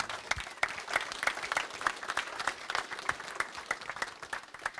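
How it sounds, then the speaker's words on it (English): Appreciative audience applause at a rally forum event, a dense patter of many hands clapping steadily for several seconds, moderately loud and without speech. "Give Gordon a round of applause."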